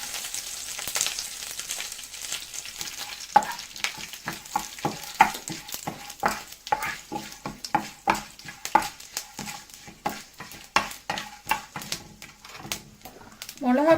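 Curry leaves and dried red chillies fry in a pan with lentils, giving a continuous light sizzle punctuated by a steady series of sharp spatula scrapes and taps on the pan.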